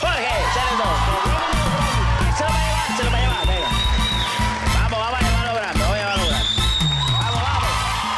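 A television show studio audience claps and cheers for a vallenato singer, loud sustained applause mixed with whoops and shouts over music.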